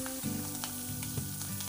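Green chili and onion frying in hot oil with cloves, cardamom and cinnamon for masoor dal, a steady close sizzle with low background tones and no voices.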